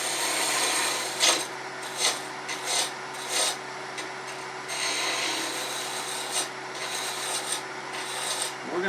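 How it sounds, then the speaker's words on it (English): A spindle roughing gouge takes a peeling cut on wood spinning on a lathe for a pepper mill, a continuous raspy shaving sound with a steady motor hum and repeated louder swells as the tool passes. "so you can take this peeling cut"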